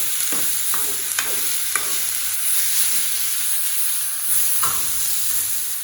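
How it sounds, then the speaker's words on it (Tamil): Thoothuvalai greens being sautéed in a pan for a herbal chutney, a steady close sizzle with scattered stirring scrapes and clicks of a spoon against the pan, no voices. "நம்ம அதில் கீரையும் சேர்த்து கீரையும் வதக்கிடலாம்"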